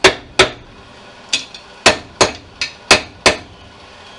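Hammer blows ringing on hot metal while a clamp for a homemade boat rod holder is forged over a charcoal forge, about ten sharp strikes in an uneven rhythm, close and loud with no talk.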